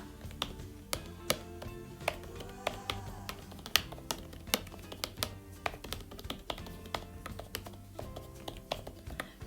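Fingers tap a computer keyboard as a channel name is typed, with quick, close, uneven keystrokes and brief pauses.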